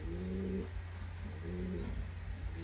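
Young racing pigeons coo in soft, low repeated phrases close by, two short bursts over a steady background hum.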